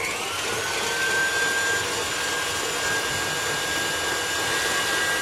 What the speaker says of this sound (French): Et on va commencer à les blanchir, c'est-à-dire à les fouetter.